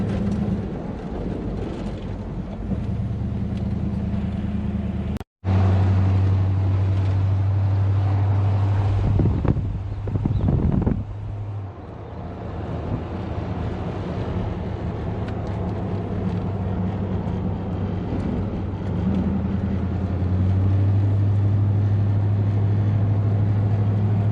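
A 1969 Buick Electra 225 convertible cruises with its top down, its low engine drone steady under heavy wind rush that buffets the microphone. There is one sharp dropout early on, and the engine note rises and falls as the car drives.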